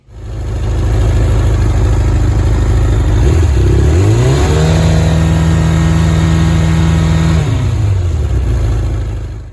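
A 1999 Kawasaki ZX9R motorcycle engine with the choke pulled and running lean, idling loud and close, then climbing smoothly to a higher steady rev, holding there, and dropping back down near the end, with no voices.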